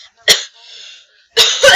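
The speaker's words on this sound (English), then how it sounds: "As you can see, I have a major cough." Two loud, harsh coughs from a person with a heavy cough, each a sharp burst with a rough tail, separated by a short quieter breathy sound, close to the microphone.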